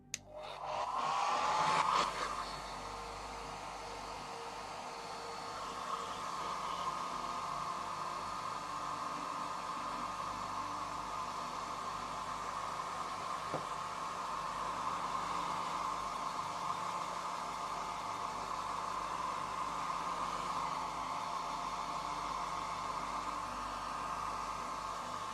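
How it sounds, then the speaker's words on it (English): A hair dryer runs steadily after a brief louder burst at switch-on, giving a continuous airy whoosh with a fan hum that stays even and fairly close for the whole stretch, with no voices. "Give them some more hairdryer action."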